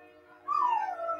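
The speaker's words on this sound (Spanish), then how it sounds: "cada que pase el tren aúlla la perrita" A small female dog lets out a rising, wavering howl that slides down in pitch, heard close over a faint low rumble as a train passes.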